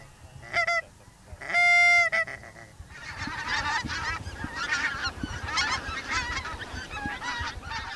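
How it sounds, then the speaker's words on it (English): Wild geese honking loudly in the open on a goose-shooting outing, a few clear nearby calls giving way to a busy chorus of overlapping honks from a flock, with scattered quieter calls underneath. "David quickly resumes calling to try and bring in the high birds"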